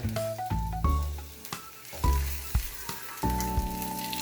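Ground keema sizzles and fries in a pan on a low flame, a steady crackling hiss that runs throughout beneath prominent background music with sustained tones.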